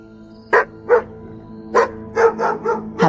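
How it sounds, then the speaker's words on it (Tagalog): Two large dogs bark in front of the listener, a sharp single bark followed by a run of several loud, close barks over a low background hum. "biglang tumahol ang 2 aso sa harapan namin"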